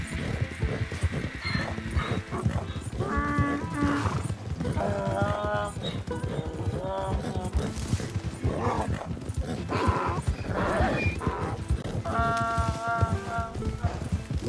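A zebra or donkey being led in Red Dead Redemption 2 brays and whinnies in repeated harsh, wavering calls over rhythmic clip-clopping hooves and other game sounds, with someone talking throughout.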